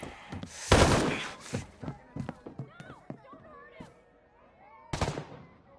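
Gunfire in the video game Ghost Recon Breakpoint: a loud close burst of shots, then scattered sharp reports and a later single blast, with players talking over the action.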